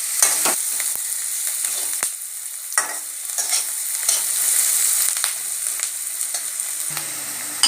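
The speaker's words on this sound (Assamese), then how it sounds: "পিয়াজখিনি অকমান ব্ৰাউন হোৱালৈকে ভাজি লম" Sliced onions with a little turmeric and salt sizzle in a pan, a steady close frying hiss broken by repeated scraping stirs of a spatula.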